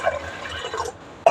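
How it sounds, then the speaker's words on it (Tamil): Water poured into rice in a home kitchen for cooking: short liquid splashing and trickling, fairly close, ending with a sharper splash or clink at the end. "இப்போ தான் நான் அரிசிலேயே தண்ணி ஊற்றுறேன்"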